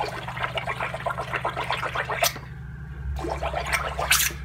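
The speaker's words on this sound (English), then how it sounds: "I'm going to immerse the airbrush and the cup only, and I'm going to spray." Airbrush spraying while immersed in soapy water, a bubbly gurgling and sputtering churn of air through liquid, close and fairly loud, with short hissing bursts and brief pauses.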